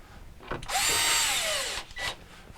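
Power drill driving a screw into a Samsung RS263TDBPXAA refrigerator evaporator cover, a single close whine of about a second rising then falling, with faint handling clicks around it.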